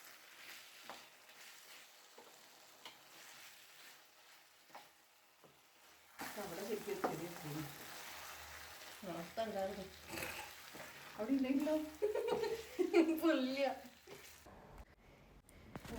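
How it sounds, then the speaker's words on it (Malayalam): Chicken sautéing over medium flame in a pan with curry leaves and slit green chillies for a dry fry, a soft sizzle that grows louder midway with stirring scrapes and bursts of frying, with a quieter stretch at the start. "ഇനി മീഡിയം ഫ്ലെയിമിൽ ഈ ചിക്കനെ നല്ലോണം വഴട്ടിയെടുക്കണം, ബ്രൗൺ ആവുന്ന വരെ."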